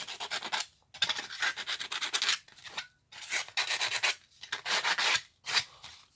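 Hand sanding of a subwoofer voice coil former being prepared for wrapping, in repeated rasping strokes about half a second to a second long, separated by short pauses, close and moderately quiet.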